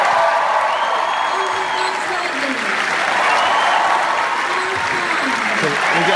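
Sustained applause from a large concert audience in Brussels, loud and steady throughout, with a few faint voices mixed into the crowd.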